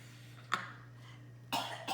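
Two sharp coughs in a kitchen, one early and a louder, longer one near the end, over a steady low hum in a quiet room.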